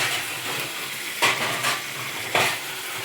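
Mixed vegetables sauté in a pan on the stove, a steady close hiss of sizzling with a few louder bursts as the pieces are stirred and tossed, no voices heard.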